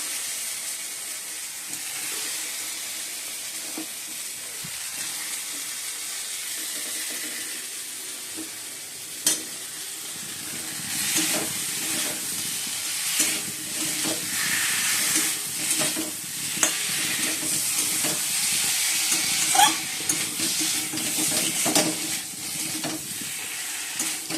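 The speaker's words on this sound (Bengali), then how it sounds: "বন্ধুরা মশলাটা কষে নিচ্ছি" Spice paste being sautéed in a pan while aloo-potol fry is made nearby, a steady close sizzle and hiss with repeated scraping stirs growing busier and louder toward the end; no talking.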